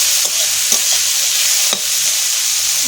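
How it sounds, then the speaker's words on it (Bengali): Onion, green chilli and yardlong beans fry in a pan with a steady, close, bright sizzle, broken by a few soft scrapes and knocks of stirring, with no one talking. "ভালো করে ভেজে নেব পেঁয়াজ, কাঁচা লঙ্কা আর বরবটিগুলো"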